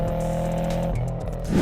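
A Subaru WRX STI boxer engine revs with a rough, throaty growl, loud and close, holding steady then dipping briefly before rising again.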